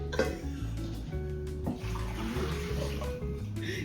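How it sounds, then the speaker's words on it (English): Cold water from a kitchen tap runs steadily over boiled eggs, a continuous close splashing rush with low pitched gurgles shifting as the flow hits the eggs, with a faint voice briefly in the background. "Now he's putting cold water over them so that he can open them, crack them open."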